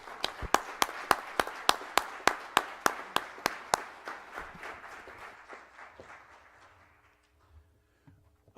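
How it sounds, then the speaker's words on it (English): A members' meeting audience claps in a steady, rhythmic round of applause for the board of trustees, with sharp, evenly spaced claps over a soft crowd wash that gradually fades away to near silence. "I will ask for a round of applause for the Board of Trustees"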